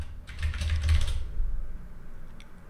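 Quick bursts of typing on a computer keyboard, a dense cluster of key clicks up front followed by a few scattered taps, close and fairly crisp, with no voices.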